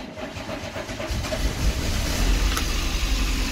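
A 1990 VW Golf MK2 GTI engine runs after a fuel pump repair, a steady low rumble that builds and holds near and fairly loud with no talk.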